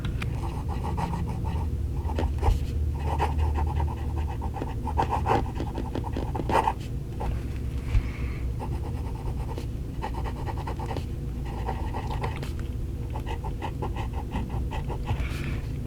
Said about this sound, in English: You hear the nib, but I think that has a lot to do with the paper and this steel nib.